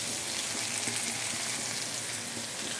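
Spices frying in a pan after turmeric is added, a steady, fine crackling sizzle at low volume, with no voices present.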